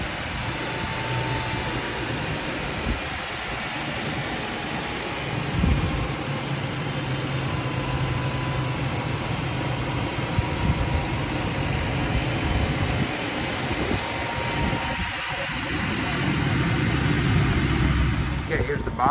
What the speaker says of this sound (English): The engine.